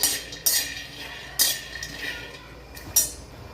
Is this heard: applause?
no